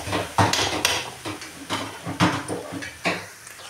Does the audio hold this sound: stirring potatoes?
yes